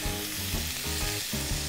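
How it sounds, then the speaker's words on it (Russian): Octopus tentacles sizzle loudly and continuously in hot oil left from frying shrimp, a dense close crackle that runs unbroken for the whole stretch. "Так, начну обжарку щупалец."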